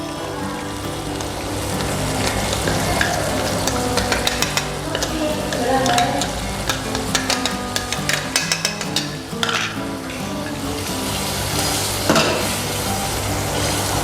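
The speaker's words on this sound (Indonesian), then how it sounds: "Kita masukkan kacang yang tadi sudah kita blender." Blended peanuts stirred in a pan while cooking into peanut sauce for batagor, a steady sizzle with scraping stir strokes and occasional clinks, no talk.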